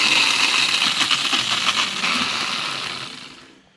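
A grinder runs in a forge workshop, a loud whirring, buzzing motor with rattly grinding texture that stays steady and then spins down and fades to silence.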